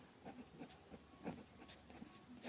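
Pen or chalk scratches out a maths equation in short, quiet strokes, a faint rhythmic series of writing scrapes with no voices.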